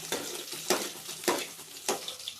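Brief bursts of sizzling as spices hit hot oil to temper dal, four sharp crackling flares over a low background hiss, fairly close.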